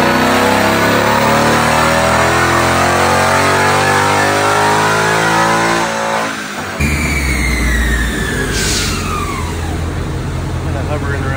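A 2018-2019 Ford Mustang GT V8 revs hard on a dyno, the engine note climbing steadily for several seconds before abruptly cutting off, followed by a falling whine and lower rumble; loud and close, with voices nearby.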